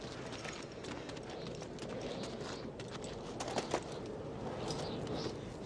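Hooves of a pack horse clip-clop steadily at a moderate distance, mixed with a constant outdoor wash and occasional bird coos, with a couple of sharper hoof knocks standing out.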